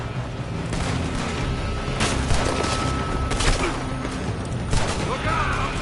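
Gunfire in Red Dead Redemption 2 during a shootout at a building, repeated loud cracks and booms scattered over a busy background, with a voice calling out partway through.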